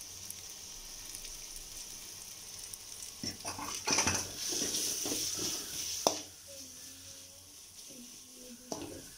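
Beef masala for a Kerala-style beef perattu sizzles and crackles as it is stirred and sautéed in a pan, with scraping strokes in the middle and a quieter stretch of frying toward the end, some faint talk over it.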